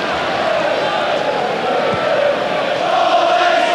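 A sellout football stadium crowd at Norwich versus Manchester United keeps up a constant loud roar of chanting and shouting, a broad wash of voices that holds steady throughout.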